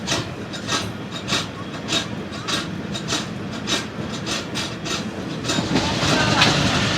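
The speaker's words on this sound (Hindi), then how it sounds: "ट्रेन हमारी डेरा नवाब साहिब रेलवे स्टेशन पे अप्रोच बनाते हुए" Zakariya Express passenger train rolling on rails as it approaches Dera Nawab Sahib station during a heatwave, heard from onboard as a loud, steady rhythmic clickety-clack of wheels over rail joints with rumbling carriage noise and faint voices.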